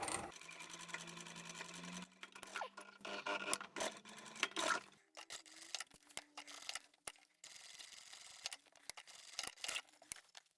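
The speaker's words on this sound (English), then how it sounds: "I'll triple stitch across here." A sewing machine triple stitches across a fabric and vinyl handbag, close mechanical runs of stitching broken by pauses, clicks and handling of the material.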